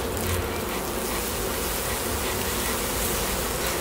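Primorska Buckfast honey bees, a VSH line, hum at the hive in a loud, dense, unbroken buzz close to the ear.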